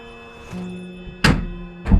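A dull thunk, then a sharp burst-like pop with a crackling tail as a pilates ball bursts while bouncing, followed by another loud impact near the end; no talking.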